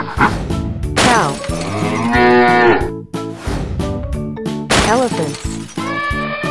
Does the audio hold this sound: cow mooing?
yes